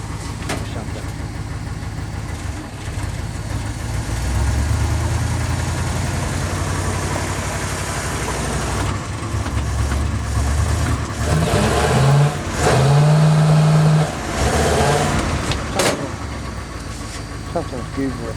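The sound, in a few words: 1951 Ford engine starting, idling and revving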